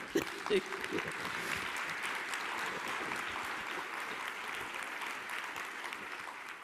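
Audience applause at the opening ceremony of an international book fair, steady clapping from a large hall with some voices mixed in, holding at an even level for several seconds.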